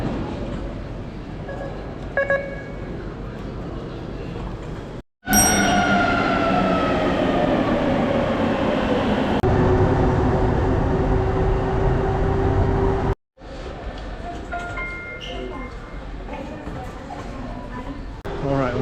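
A Mexico City metro train running loud and close, a constant rumbling roar with rising and falling motor whine, cut by two brief dropouts, then the steady rolling noise continues.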